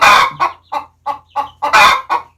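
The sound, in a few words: hen clucking after laying egg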